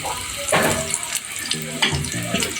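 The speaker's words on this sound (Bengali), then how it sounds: "পেঁয়াজের সাহায্যে একটু ভেজে নিচ্ছি" Garlic, ginger and onion fry in soybean oil in a pan, giving a soft, steady sizzle with occasional stirring scrapes, close by. A person talks over it throughout.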